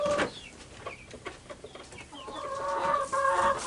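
A rooster clucks and calls in a backyard coop during a spring garden tour, several short clucks and bursts building to louder sustained calls near the end, close by with no talk.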